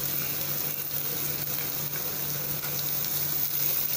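Vegetables sautéing in a hot pan for oats idli, a steady, even sizzle that stays fairly loud and constant from start to finish with no talk.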